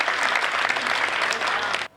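Audience at a kavi sammelan poetry recital at Lucknow University claps in a dense, lively burst that stops abruptly near the end.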